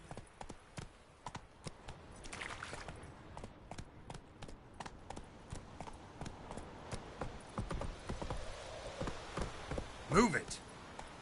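A horse's hooves clip-clop steadily at a walking pace in The Witcher 3, with a rider's voice over the hoofbeats.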